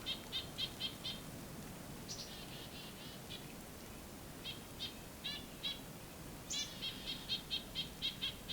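Agitated nuthatches call during a Christmas bird count, sounding as faint, quick series of nasal notes in short bursts, a little distant over a quiet outdoor background, with no talk.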